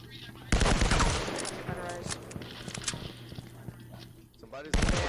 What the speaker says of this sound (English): Momo and Brown laying down the gunfire